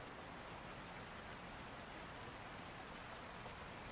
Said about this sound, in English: He watched the rain fall in the courtyard